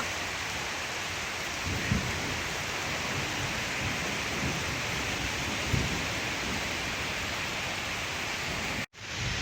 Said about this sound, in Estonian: praegu on see paduvihmaaeg ja müristab